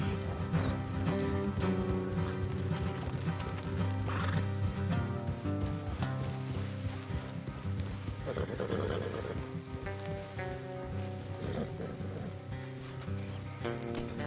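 Horses neigh and whinny over steady clip-clopping hooves, with ambient game music and effects in the background, in Red Dead Redemption 2.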